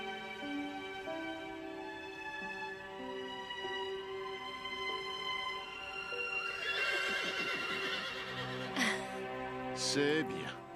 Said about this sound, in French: Il y a un cheval qui vient d'arriver au refuge.